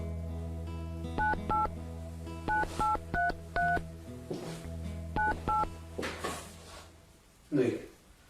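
Telephone keypad dialing tones beep in short clustered runs as a call is placed, with handling clicks and a brief clatter near the end.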